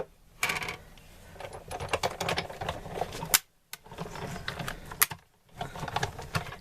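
A Big Shot die cutting machine gives off quiet, irregular popping and crackling clicks in dense bursts, broken by two brief silent gaps.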